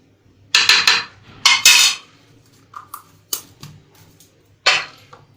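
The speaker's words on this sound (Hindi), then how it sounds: "इसको मिक्स करें" Cake batter being mixed in a bowl after baking powder is added, heard as a series of sharp clinks and taps of a utensil against the bowl, coming in irregular bursts and close by.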